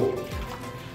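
Hot water, about two cups, poured into a bowl for making jelly: a short, soft splash and rising fill sound close by, lasting about a second.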